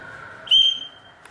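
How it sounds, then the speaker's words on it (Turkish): A single sharp whistle blast, loud and close, lasts about a quarter second and marks timing for martial arts footwork drills in a youth training session in Midyat. "Düdükle beraber."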